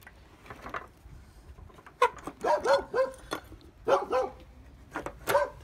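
Dogs in an animal shelter, including a laika, bark and yelp in irregular bursts, some close and loud, with quieter stretches between the outbursts.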